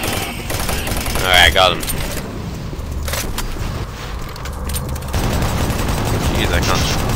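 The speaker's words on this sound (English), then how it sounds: "Chain gun, go." Chaingun firing in Doom 3: Resurrection of Evil, sustained rattling bursts over game noise, with someone talking briefly over the shooting.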